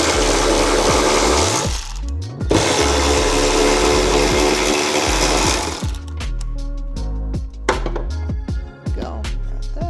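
Loud, steady whirring of a power tool working close up to remove a plastic bracket on a Mazda RX7 during a rear battery relocation, running nearly continuously with brief stops and short bursts toward the end.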